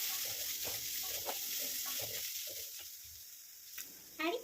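Chopped onions with a pinch of salt sizzling and being stirred in hot oil for sambar, a steady soft frying hiss broken by scraping spoon strokes, with a brief clatter near the end.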